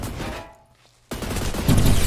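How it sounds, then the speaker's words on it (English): AK-12 rifle fire in the Roblox shooter Energy Assault: a loud burst of shots opens, a short near-silent gap follows, then dense rapid gunfire resumes and grows heavier toward the end. "shot in the back by the freaking AK-12"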